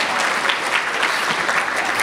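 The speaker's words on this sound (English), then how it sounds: "round of applause for Glee." A crowd at an educator conference claps in a dense, steady burst of applause that holds at an even level throughout.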